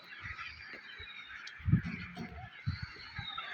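Chickens on a poultry farm at a farmhouse near Raiwind give a few scattered, low clucking calls over a steady outdoor background hum, heard at moderate distance with no talking.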